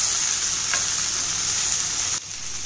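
Onion and tomato fry in hot oil in a kadai, giving a loud, close, steady sizzling hiss that runs throughout and dips slightly near the end.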